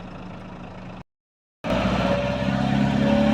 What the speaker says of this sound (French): Vous entendez le bruit du moteur. Ouais. Là, c'est typique des J5 et des C25.